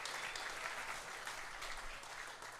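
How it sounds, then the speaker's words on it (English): Audience applause at a Great Big Night benefit evening for the Croswell: steady, broad clapping from a crowd, sustained and fairly distant for the whole stretch with no voices. "Let's give a big round of applause to our Lily Buck."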